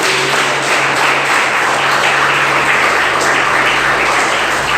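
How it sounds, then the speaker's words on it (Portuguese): A church congregation claps in praise together, a dense, loud and steady wash of applause that holds without a break. "Vamos dar uma salva de palmas para o Senhor."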